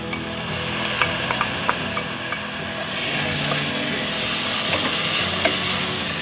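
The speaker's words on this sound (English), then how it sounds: "we'll mix it around so that it gets blended with the rest of the ingredients in the pot" Corn, green chilies and black bean tortilla soup ingredients are stirred in a hot pot, a steady loud sizzle and hiss with scattered clinks and scrapes of the spoon against the pot.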